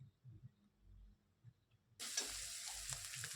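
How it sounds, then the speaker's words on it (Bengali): Ground cumin, red chilli and coriander powder with a spoonful of sugar hit a hot pan, a bright steady sizzle that bursts in about halfway through after a quiet, low-rumbling start. "মশলাটা একটু আমার ভাজা হয়ে গেছে"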